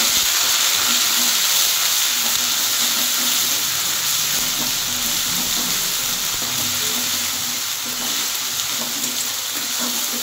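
Chilli paste and garlic paste fry in hot oil with onion paste, giving a loud, continuous hiss and sizzle close by with no pauses.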